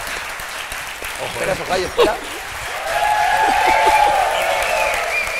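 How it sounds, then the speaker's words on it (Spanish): Audience applause breaks out at a live interview show, a crowd of hands clapping steadily and growing fuller partway through while people keep talking over it. "¡Un aplauso!"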